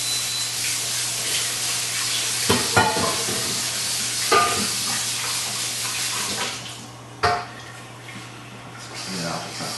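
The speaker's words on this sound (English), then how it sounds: "I'll just rinse that pan out quickly" A frying pan rinsed out under running water, a steady hiss of flowing water with intermittent clatters and knocks of the pan being handled, and a low hum underneath.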